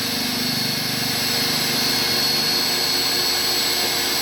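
A vacuum cleaner runs inside a Honda City car, a loud, steady motor whine that holds close and constant for the whole stretch with no voices.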